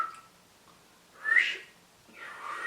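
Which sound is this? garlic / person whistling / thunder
person whistling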